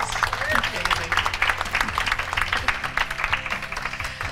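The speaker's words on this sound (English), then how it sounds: "Let's give a round of applause" Audience at a success panel giving a round of applause: sustained, fairly loud clapping from a crowd with a pulsing texture, a voice speaking over it throughout.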